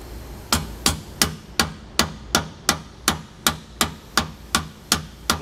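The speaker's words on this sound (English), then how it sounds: "We'll have to tap our bolt just a little bit to get it all the way through." Hammer tapping a suspension bolt through a slipper spring box on a 2020 Grand Design Momentum fifth-wheel trailer, thirteen evenly spaced sharp metallic taps, close and clear, with no talk.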